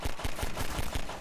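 A cannon in Half-Life 2 fires a quick run of heavy, booming thumps, about six shots in just over a second, loud and close.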